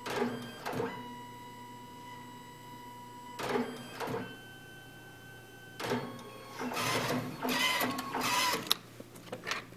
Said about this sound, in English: the printer is right down here, shooting out the photos here in just a couple seconds